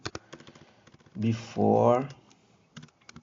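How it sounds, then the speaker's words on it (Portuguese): Keys clatter on a computer keyboard in quick, close bursts of clicks at the start and end, with a brief voiced sound in between. "Deixa eu digitar aqui"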